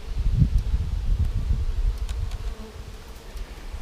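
A close, steady buzzing of honey bees from a package colony building comb on foundation, with low rumbling hum and some rustling; the busy drone is loudest at the start and eases slightly.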